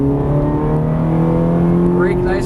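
A Ferrari 430 engine on a race track, loud and close, holding a steady droning roar with rising pitch as the throttle is squeezed, with a voice speaking over it.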